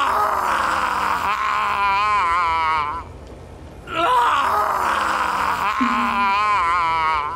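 A screaming, groaning voice effect from the video game Divinity: Original Sin 2 wails loudly and wavers, breaks off into near silence for about a second, then returns with the same pained cries.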